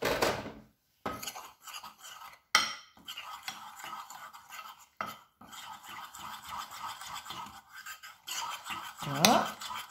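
A mixture is stirred in a pan for a cauliflower semolina couscous dish, with choppy scraping and light clinking of a utensil against metal in irregular bursts and short pauses, close and quiet.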